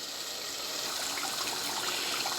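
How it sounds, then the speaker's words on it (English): Two tins of kidney beans bubble steadily in a pot on the stove, giving a continuous close, soft simmering hiss with faint popping, with no talking. "Right, so it is bubbling away."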